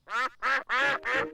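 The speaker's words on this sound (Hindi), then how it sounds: "बतखों को और खाना चाहिए।" A cartoon duck quacks in a pond scene, five loud, nasal, close quacks in quick succession with brief gaps between them and no talk over them.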